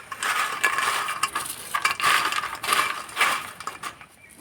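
Crispy raw-peanut pakoras tossed with chaat masala give off a run of close, dry, crunchy rattles and clinks in uneven bursts, with no talking.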